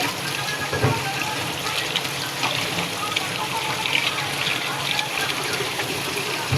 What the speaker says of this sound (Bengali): তো এখন আমি কচুগুলোকে ধুয়ে নিব